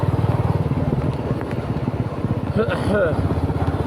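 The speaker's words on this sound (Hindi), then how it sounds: "बारिश की बाइक चला रहा हूँ ना" A motorcycle rides through rain, its engine thrumming steadily with a pulsing low rumble that dominates, while a voice speaks briefly near the end.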